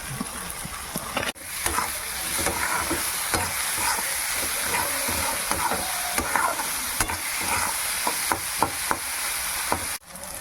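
Garlic, ginger and green chilli fry in hot oil for a prawn curry, giving a continuous loud sizzle broken by repeated scraping strokes of a spoon stirring in the pan.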